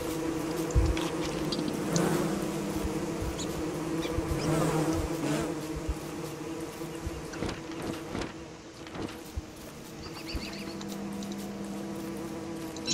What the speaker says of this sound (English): those killer bees are obnoxious though